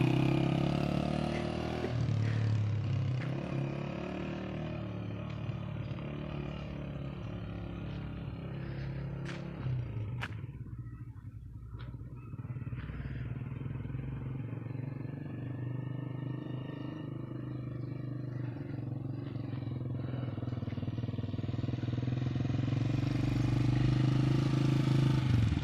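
A motorcycle engine runs throughout, revving and idling with a dip in the middle before the throttle rises again, close and steady, with no speech over it.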